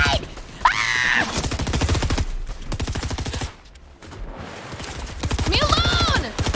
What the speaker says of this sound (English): You're getting shot from the side!